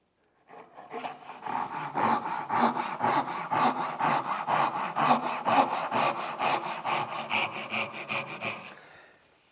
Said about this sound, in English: I'm going to cut down as far as I can while it's in the vise.